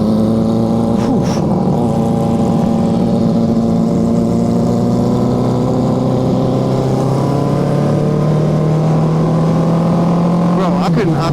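A Yamaha FZ10 (MT10) motorcycle runs loud and close, a steady droning engine note that climbs slowly in pitch, with brief voices heard faintly over it.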